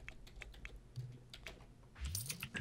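Rapid clicking keystrokes on a computer keyboard while entering a cheat code in The Sims 4, brisk irregular taps with a short flurry near the end, fairly quiet and close.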